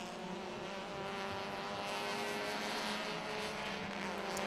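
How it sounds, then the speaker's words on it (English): Heavily modified race car engines at a Thailand Super Series event in 2021 drone and roar in a steady, continuous wash heard from a distance, fairly faint and without voices. "That's one of the sounds coming out from these engines."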